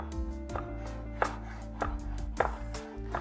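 Kitchen knife chopping food on a cutting board in about five firm, evenly spaced strokes, close and clear over a low background hum, with no talk.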